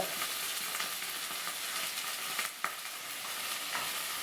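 Eggplant sautéing in oil with salt, with a steady close frying hiss and occasional soft stirring scrapes, a brief dip and a light clink midway, and no talking.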